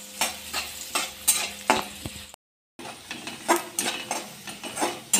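Finely chopped onion fries in a pan with a steady sizzle, broken by repeated scrapes and clinks of a spoon stirring against the metal, with one brief gap of silence partway through.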